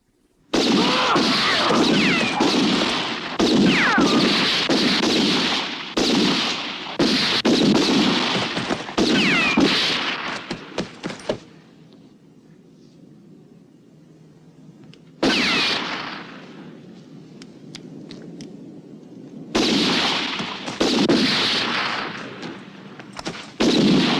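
Gunfire in a western film ambush: loud, dense bursts of shots and crashes fill the first eleven seconds, drop to a quiet lull, then return in two further heavy volleys.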